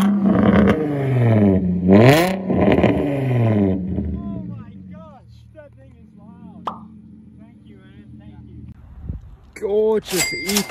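A BMW E39 5 Series engine revs up and falls back in loud rising and dropping sweeps, then quieter idle with a brief sharp clank, with people talking nearby.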